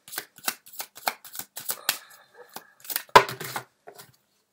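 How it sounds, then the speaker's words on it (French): Tarot cards being drawn and shuffled from a deck, a quick run of crisp papery flicks and slaps, close and clear, with a louder snap near the end and no talking. "Alors je veux juste sortir deux cartes supplémentaires."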